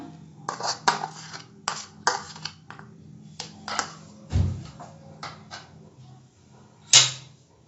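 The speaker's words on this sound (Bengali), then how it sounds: "হাতায় করে মিশিয়ে দিলাম" Metal ladle stirring vegetable sambar with tamarind pulp in a pot, a series of sharp clinks and scrapes at irregular intervals, with one louder knock near the end, quiet between strikes.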